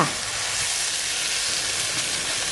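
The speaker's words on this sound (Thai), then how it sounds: "เราก็ใส่ไข่ลงไป จากนั้นก็ทำการ ผัดต่อค่ะ" Okra and egg stir-fry over high heat in a wok with a loud, steady sizzle and hiss that runs continuously and close by, with no talking over it.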